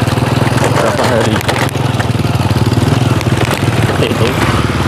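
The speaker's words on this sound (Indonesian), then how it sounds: "Jadi digeret sama traktor ya." A tractor engine chugs steadily with a rapid throbbing beat, close and loud, working in a rice paddy field in a rural Javanese village at planting time; the rumble stays constant throughout with no clear speech over it.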